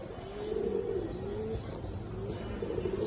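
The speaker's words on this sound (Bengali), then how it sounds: "এটা হচ্ছে আফসানবাগা মাদি কবুতর একদম লাড্ডু মাথার কবুতর" A female Afsan bagha pigeon with a rounded crest coos close by in repeated soft, low rolling phrases, with faint background noise.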